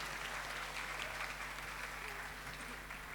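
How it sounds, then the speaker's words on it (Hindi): A congregation applauds to welcome a priest during a Holy Mass at an annual national pilgrimage: a steady, dense wash of clapping from many hands that sounds soft and distant and holds evenly for the whole stretch. "फादर जी को हम आज की इस इबादत में पुरजोर तालियों में खुश आमदीद कहेंगे"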